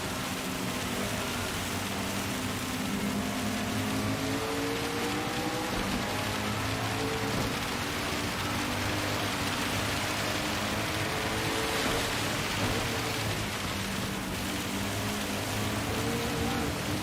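Rain falls on the race track in Gran Turismo 7, a steady broadband hiss layered over a droning car engine, constant and dense for the whole stretch with no voices.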